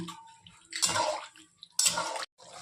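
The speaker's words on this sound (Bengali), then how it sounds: "এখন একটু জল দিয়ে দেব, একটু জল দিয়ে ফুটিয়ে নেব।" Water poured into a cooking pan of soyabean kosha, two separate splashing pours, each a bit under half a second long, with quiet gaps and small clinks between them.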